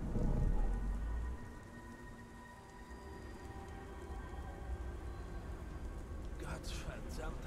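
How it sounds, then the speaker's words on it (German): Steady rain with low rumbling thunder in the video game Beyond: Two Souls, loud at first then settling into a constant wash of downpour, with someone talking briefly over it. "Gottverdammter Regen."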